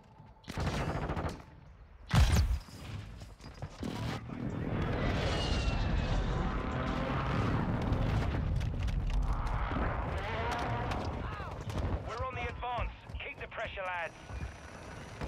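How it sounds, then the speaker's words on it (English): Airstrike explosions and gunfire in Modern Warfare 2, with sharp bursts early on giving way to a long rumbling wash of blasts and scattered shots, while voices speak over it. "Friendly airstrike in the AO."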